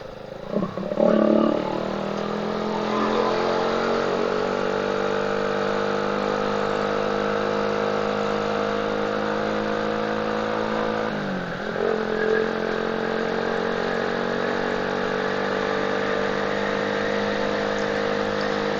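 A motorcycle engine labours steadily in fourth gear while climbing a long uphill road on the way to Telomoyo, a continuous loud drone with a brief dip in pitch partway through and no talk.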